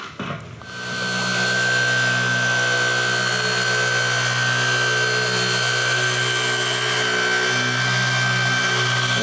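Machine polisher whirring with a soft black 2-inch finishing foam pad and finishing compound on the paint of a 1990 Lamborghini Countach, spinning up in the first second, then a loud, steady whine with a sustained high tone throughout.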